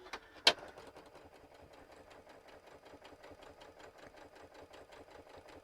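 A sewing machine runs steadily while stitching quilt pieces for a gnome Christmas table topper. A fast, even mechanical chatter continues throughout, with a sharp click near the start and no talk.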